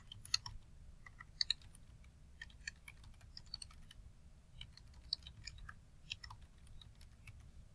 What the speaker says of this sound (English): you can actually type text directly onto the page